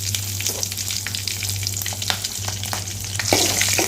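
Two dried red chillies and a green chilli fry in hot oil with mustard seeds and cumin for a gongura kadaiyal, giving a steady close sizzle with scattered crackles and a low hum underneath and no voices.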